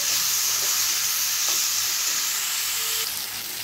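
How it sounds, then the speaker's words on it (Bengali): Spice paste for rohu fish curry fries and is stirred in a hot pan, with a steady loud sizzle and occasional scraping strokes from the spoon. "এবারে পেস্ট করা মশলাগুলোকে দিয়ে দেব। ভালো করে কষে নেব।"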